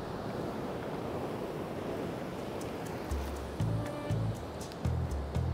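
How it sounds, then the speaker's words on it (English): Rough sea surf breaking on the shore at night, a constant roaring wash with heavy wind buffeting the microphone, and low electronic bleeps near the end. "The sea is as rough as you can imagine."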